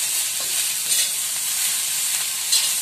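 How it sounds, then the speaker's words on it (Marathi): Green chilli thecha with coriander sautéed on low flame in an iron tawa makes a continuous bright sizzle with a few soft spatula scrapes, steady and close throughout. "आणि त्यानंतर त्याच्यात कोथिंबीर टाकायची आहे. आणि हा आता आपल्याला व्यवस्थित परतवायचा आहे."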